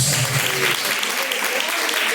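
Congregation clapping in praise at a Pentecostal church service, a dense patter of hands that starts with a voice or tone and continues steadily, fairly close and even throughout.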